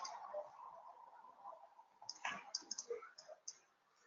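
Clicky keystrokes on a computer keyboard as a city name is typed, a short irregular burst of taps close by, over faint background hum.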